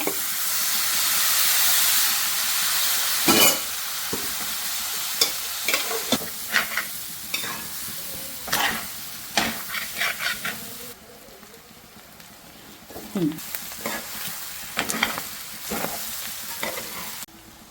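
Pork pieces fry in hot masala in a Kerala-style pork fry, a steady sizzle broken by repeated scraping strokes of a spoon stirring in the pan, close and clear with no talk.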